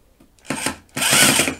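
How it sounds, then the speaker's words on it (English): A power drill bores into wood while building a coat rack, two short bursts of whirring and grinding, the second longer and louder, close up with no talk. "this is a very awkward angle to drill at."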